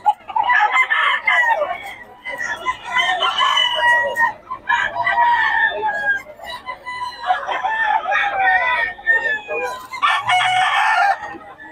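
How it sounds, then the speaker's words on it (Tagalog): Chickens and roosters for sale at a market in Bocaue, crowing and clucking almost continuously, with several birds close by and overlapping, and a few faint voices in the background. "Solid ang mga tayo ngayon ng mga manok ni Boss Rod."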